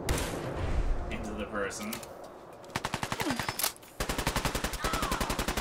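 Rapid machine gun fire in the Fallout 4 video game, with long, evenly paced bursts of loud shots following earlier gunfire and muffled action, while a voice speaks briefly near the start.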